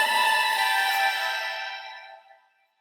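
Processed vocal chop treated with reverb, delay, EQ and Waves plugins, a single bright sustained tone that holds loud for about a second, then fades out in a long reverb tail, heard alone.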